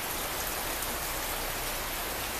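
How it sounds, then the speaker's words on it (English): Steady, dense rain falls in a home garden on a cold, windy March day, a loud, even hiss of drops hitting surfaces with no pauses. "that is how it rained in the month of March"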